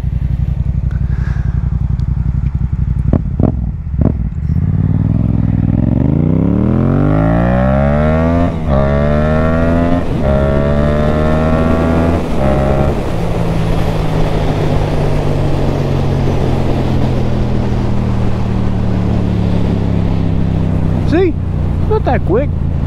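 A motorcycle engine revs and accelerates on a night ride, rising through the gears in steady sweeps, loud and close with constant wind roar, while a rider talks over it.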